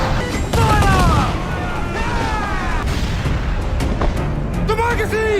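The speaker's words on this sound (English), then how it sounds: "Man the cannons!" Ship cannons fire in an Assassin's Creed 4 Black Flag naval battle, heavy booms and crashes over a constant din of shouting crew, with several loud impacts spread across the scene.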